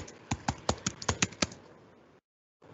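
Keys tapped on a computer keyboard while entering a setting in Visual Studio 2019, about eight distinct clicks in a quick, slightly uneven run, close and clear, ending in silence before a faint noise returns.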